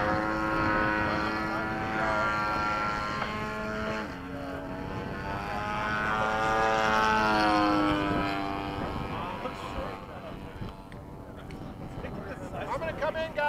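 A radio-controlled Gee Bee model airplane comes in to land, its small engine droning steadily with shifting pitch at moderate distance, while people talk throughout.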